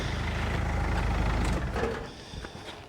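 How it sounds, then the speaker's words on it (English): A loud car engine idles with a steady low rumble, then is switched off around the midpoint and the sound drops away, leaving a faint exhaust rattle and quiet ambience. "let's turn the engine off because it is bloody loud"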